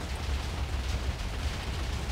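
A cannon firing in Minecraft makes a dense, rumbling explosive roar that fills the short moment at steady loudness, with no voices over it.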